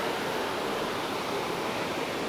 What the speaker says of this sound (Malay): dekat atas jambatan ni kita boleh tengok sungai kat bawah